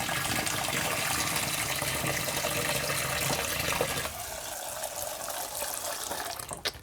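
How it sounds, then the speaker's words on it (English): Water running and splashing while chickpeas are rinsed and drained in a bowl, a loud steady gush that eases into softer trickling and sloshing. "drained it a couple of times, added the water, drained it"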